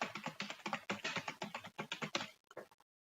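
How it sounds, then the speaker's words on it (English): A password is typed on a computer keyboard during a Python lecture, with a quick, uneven run of near, crisp key clicks, about a dozen strokes with short pauses, then a few sparse taps before silence. "I enter a lot of keys for the password"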